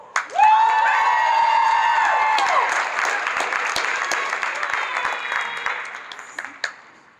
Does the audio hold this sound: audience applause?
yes